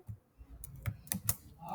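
Light clicks of a computer keyboard while code is being written, a handful of scattered keystrokes at close range, quiet and irregular.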